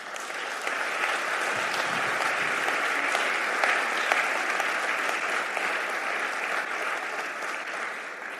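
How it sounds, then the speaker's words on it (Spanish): A church congregation claps together in sustained, dense applause that holds at an even level for several seconds, filling the room with no speech over it. "dale un aplauso al Señor."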